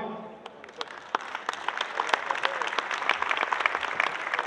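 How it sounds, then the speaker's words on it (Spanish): Audience applause at the inauguration of Expo Leche 2022, a steady wash of many hands clapping that builds and holds at moderate loudness, with sharp individual claps standing out and a brief voice near the start. "Un aplauso, por favor."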